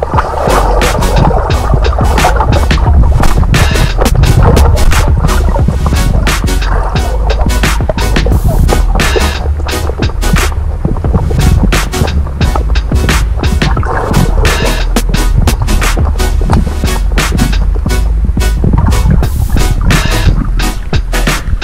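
Feet kicking and paddling hard in a swimming pool while the swimmer holds the edge, making continuous loud, close splashing and churning water for the whole stretch, with no talking.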